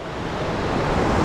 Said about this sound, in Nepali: ल खोला आयो खोला